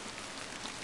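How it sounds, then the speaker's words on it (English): Steady pouring rain in the video game Midnight Puppeteer, a dense continuous hiss of drops falling on surfaces, even and unbroken with no voices. "And it's pouring rain."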